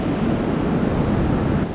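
Waves break and wash onto an island beach in a continuous, loud roar of surf, steady and close, with no voices.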